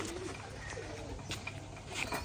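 Pigeons kept at a home loft with their young give low, soft cooing that rolls along steadily under a faint background hum, nearby and unhurried.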